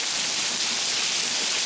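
Heavy storm rain pours down in a dense, unbroken roar, loud and steady throughout, with no voices.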